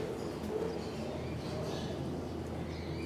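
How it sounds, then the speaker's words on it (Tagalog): Pigeons cooing in a breeder's loft and aviary, soft low coos mixed with faint chirps over a steady background hiss, close and continuous. "Kalapati."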